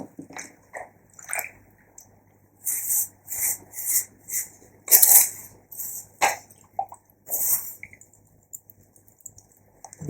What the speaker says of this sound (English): Just going to give this a rinse too to get rid of the coarser sand.